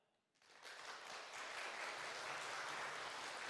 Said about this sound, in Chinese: 让我们用最热烈的掌声欢迎航天员老师们